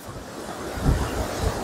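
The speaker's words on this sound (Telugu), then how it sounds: "చూడండి, అల్ల శబ్దం అనేది అమోఘం." Ocean surf rolls onto sandy Candolim beach in Goa at night, a continuous wash of breaking waves with wind buffeting the microphone and a slightly louder surge midway.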